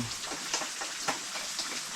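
Light rain falls steadily outdoors as a soft, even patter with a few slightly louder drops, and no voices are heard.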